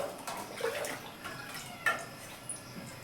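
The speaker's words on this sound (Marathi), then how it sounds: "मी एक तांब्या पाणी ओतणार आहे" Water from a small metal pot is poured into a cooking pot with oil for biryani, splashing and trickling intermittently, with a few brief sharp clinks of metal over a quiet background.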